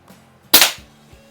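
A Predom Lucznik air rifle firing a single pellet, one sharp close crack that quickly fades.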